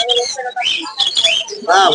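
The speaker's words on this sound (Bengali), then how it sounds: "আপনার পাখিগুলো দেখেন, প্রত্যেকটা পাখি খুব সুন্দর" Caged birds at a Friday bird market in Mirpur chirp and whistle in quick, loud, close bursts, with voices talking in the background.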